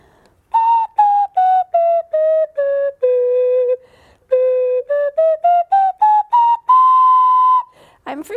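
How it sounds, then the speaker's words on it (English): A tonette, a small plastic pre-band flute, plays a slow melody of clean, pure whistle-like notes, some short and detached and others held, close and alone with no talking. "If I take the tonette, you're going to notice quite a difference in the way that it plays."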